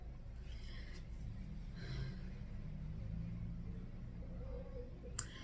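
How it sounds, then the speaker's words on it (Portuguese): A car pulls away outdoors, its low engine rumble steady and moderately loud, fading slightly over a few seconds, with a brief sharp click near the end. "Saiu o carro."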